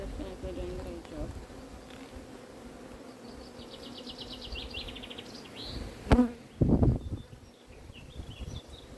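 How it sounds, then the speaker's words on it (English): Honeybees buzzing steadily at a beehive, a dense, continuous hum close by, with a couple of brief louder bumps or knocks near the end. "it's a lot of bees in this hive"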